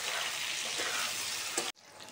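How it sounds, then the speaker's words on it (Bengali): Potatoes fry in hot oil in a pan with a steady, dense sizzle and hiss, close and fairly quiet, briefly stirred before the sound drops sharply and resumes more softly. "আলুটা খুব ভালোভাবে ভাজা হয়ে গেছে"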